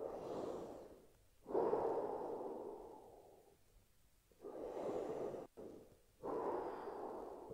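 Slow, deep breaths during a shoulder exercise, several long airy inhales and exhales close to the mic, separated by short quiet pauses.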